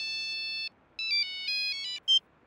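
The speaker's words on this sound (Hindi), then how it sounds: "ठाकुर बाबा राउर फोन" A phone ringtone plays in repeated electronic melodic bursts, clear and fairly close, stopping and restarting a few times over a quiet background with no speech.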